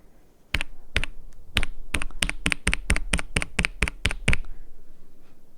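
Computer keyboard keys are pressed in a quick run of about fifteen sharp, clacky taps, close and clear, starting with a few spaced strokes and then speeding up, with no talking.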